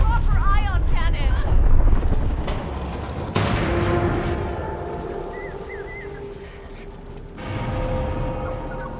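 In the video game Split Fiction, an ion cannon fires with a heavy, roaring blast and a sudden sharp burst midway, over dense rumbling effects and shrill electronic whines.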